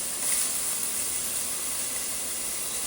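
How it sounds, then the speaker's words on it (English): Onions sizzle in melted butter in a pot, a steady broadband hiss of frying that runs evenly and fairly loud with no talk over it. "Into that, I'm dropping my onions."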